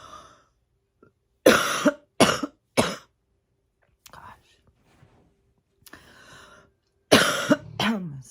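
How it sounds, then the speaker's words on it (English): A person coughs hard in repeated bursts, a cluster of three harsh coughs, a pause with faint breathy sounds, then another heavy coughing burst. Close and loud. "I'm gonna start a fucking cough fit."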